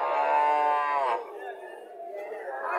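A Friesian dairy cow gives a loud, drawn-out moo of about a second, tapering off while faint murmuring voices continue in the background.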